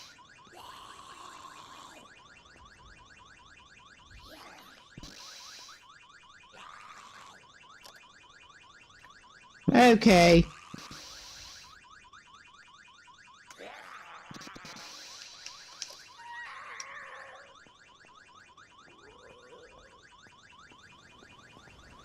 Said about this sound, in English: That alarm is about to do my head in.